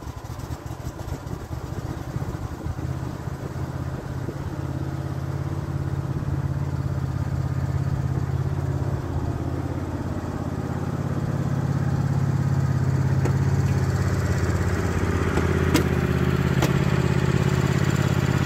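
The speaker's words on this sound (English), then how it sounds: "I've just brought the little tractor out of its garage." A small tractor engine idles steadily outside a cabin garage, a low, even mechanical drone with light clatter that swells slightly louder in the second half.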